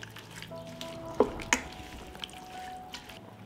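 Tomatoes and green beans fry quietly in a pan with a soft, steady sizzle, broken by a couple of sharp clinks and taps as the mixture is stirred.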